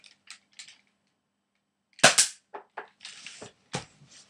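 Modded Switchshot toy blaster firing, a single sharp loud crack followed by a few short snappy clicks and rattles, after several faint ticks in near silence.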